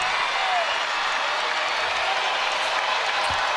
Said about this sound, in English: Now the crowd starting to come to life a little bit for one of the few times today